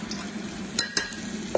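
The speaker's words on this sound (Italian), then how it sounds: "raccolgo un po' di impasto sulla punta del cucchiaio e lo butto giù nell'olio" Zeppole batter made with prawns and parsley is dropped by the spoonful into hot oil, giving a steady soft sizzle broken by a few sharp crackling pops.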